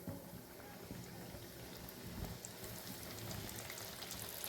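Flour-coated calamari pieces fry in hot oil, a faint, steady crackling and bubbling hiss that stays even throughout with no talking.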